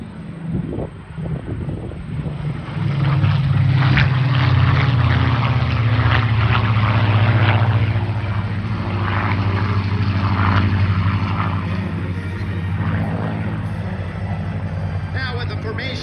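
Two World War Two fighters, a Supermarine Spitfire and a P-51 Mustang, fly past with a loud, steady propeller-engine drone that swells and holds for most of the stretch before easing slightly.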